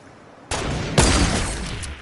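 Rapid gunfire in a shooting video game, a sudden loud burst of shots that starts abruptly and peaks with a heavier blast, sustained close and dense for over a second before tapering.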